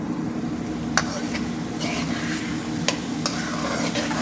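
Masala of onion and tomato frying in oil in a pan for Pakistani fish fry, a close steady sizzle with a few sharp clinks and scrapes as it is stirred.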